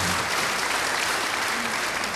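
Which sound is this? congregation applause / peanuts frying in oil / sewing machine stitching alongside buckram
congregation applause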